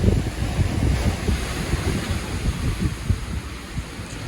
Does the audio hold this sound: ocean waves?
yes